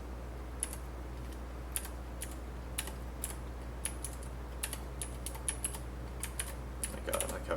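Fingers tapping keys on a calculator keyboard in irregular bursts of crisp clicks, close and steady over a low constant hum, without talk.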